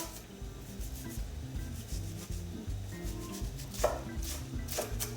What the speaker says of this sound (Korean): 양파도 약간 입자 있을 정도로 하셔서 다져주시면 되는데요